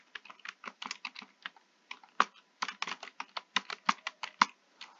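Rapid keystrokes on a computer keyboard while a command for the Arjun parameter-bruteforcing tool is entered in a terminal, with clear close clicks in bursts and short pauses between them and no voice.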